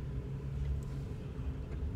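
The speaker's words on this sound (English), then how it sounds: "Let's take this thing for a little bit of a test drive," First-generation Nissan Xterra with 139,000 miles, recently given an oil change and torsion bar adjustment, driving on a test drive: a steady low cabin rumble of engine and road noise, continuous and fairly quiet, with no talk.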